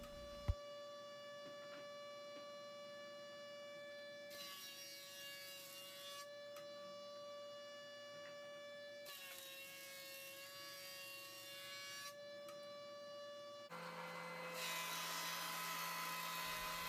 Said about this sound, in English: back to the jointer, and we're going to joint one face that we scraped down.